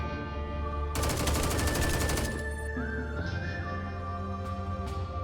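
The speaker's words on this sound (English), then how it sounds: "Spotting the enemy, I shot." Rapid automatic gunfire rattles in a dense, loud burst for over a second while shooting at enemies in a snowy modded Minecraft battle, followed by tonal game sounds and a few sharp later shots.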